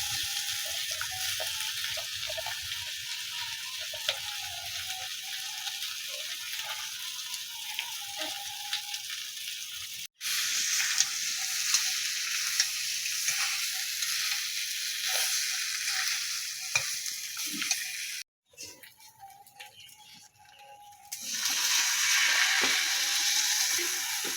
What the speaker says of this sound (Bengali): আলু দিয়ে দিলাম, আলুগুলো কষাবো।